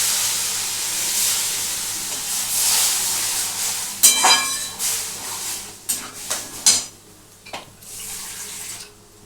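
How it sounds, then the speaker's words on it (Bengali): Water trickles in a soft continuous stream into a bowl of powdered milk, then gives way to a series of wet stirring and scraping knocks as the mixture is worked together. "একটু জল দিয়ে দিলাম এর মধ্যে।"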